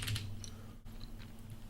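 Quiet keystrokes on a computer keyboard, a short burst of soft clicks over faint room hum with a brief pause midway.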